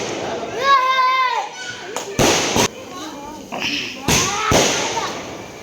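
Diwali firecrackers set off during a home celebration in Bangalore: two sharp, loud bursts, each a short crackling blast, come after excited children's shouting and voices, with kids talking around them.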